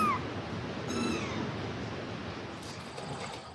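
A cat meows once briefly near the start, then a faint higher cry follows over a steady outdoor background hiss, with no talking.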